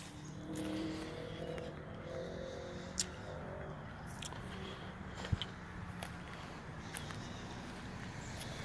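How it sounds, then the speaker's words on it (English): A car drives along a road beside a cemetery lined with large old trees, a steady rushing tire and engine noise at moderate distance, with scattered clicks and handling noises but no speech. "Sorry, that was a car going by."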